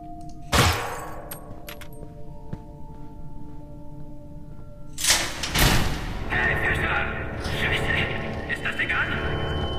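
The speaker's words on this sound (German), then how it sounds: "Obwohl wir einen Schalldämpfer haben, ist die Waffe tierisch laut" Two sharp, loud silenced gunshots in the game Splinter Cell: Conviction, about five seconds apart, each a broadband crack with a short tail, over a steady game background hum.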